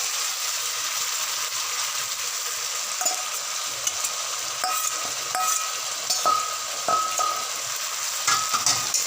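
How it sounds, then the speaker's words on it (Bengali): Fried potatoes tipped into a spice paste already sizzling in oil for a Bengali dhokar dalna, then stirred, giving a steady close frying hiss with scattered scraping clicks of the spoon against the pan and no talk. "এবার এর মধ্যে ভেজে রাখা আলুগুলো দিয়ে দিলাম।"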